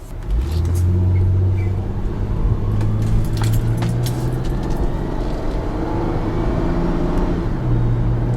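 A 2001 Honda Odyssey minivan with a bad transmission drives along, its engine droning loud and steady as the pitch shifts with speed, plus faint rattles and no talking.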